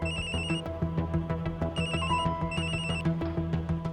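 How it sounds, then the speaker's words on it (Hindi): Telephone ringing in a home during a Hindi TV drama: repeated bursts of a bright electronic ringtone, loud and close, with no speech over it. "अक्षय के पापा का फोन है।"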